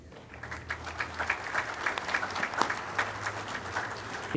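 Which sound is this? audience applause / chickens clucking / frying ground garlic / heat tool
audience applause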